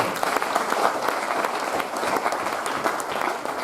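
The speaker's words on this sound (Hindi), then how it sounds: "चलिए कबड्डी वालों के लिए ताली बजाइए" An audience claps for kabaddi players, a brief, dense and even burst of applause from many hands, loud and continuous with no voices over it.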